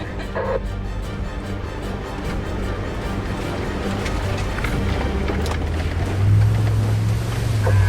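A four-wheel-drive vehicle ploughs through a water crossing on an outback track in the Kimberley, a continuous loud rush of churning, splashing water over a low engine rumble that deepens near the end.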